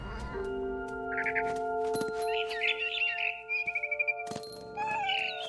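Barn swallow chirping near a window in the game What Remains of Edith Finch, a few short bright twitters and a rapid trill over a steady tonal music bed, with soft clicks scattered throughout.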